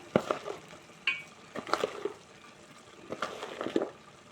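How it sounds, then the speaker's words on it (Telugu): Chili powder, salt and turmeric are stirred into a country chicken curry in a pot, giving a few separate bursts of scraping and wet mixing between quiet gaps, near and moderately loud without speech. "దీంట్లోనే కొంచెం పసుపు ఇవన్నీ కొంచెం బాగా కలిసేలా కలుపుకున్నాం"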